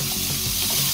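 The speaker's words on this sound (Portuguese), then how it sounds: "agora eu vou colocar mais um fiozinho de óleo ou de azeite. Vou colocar 400 gramas de cebola ralada." Four hundred grams of grated onion fry in a drizzle of oil in a pan, giving a loud, close, continuous sizzle with faint stirring and no talk.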